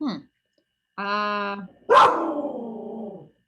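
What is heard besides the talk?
dog barking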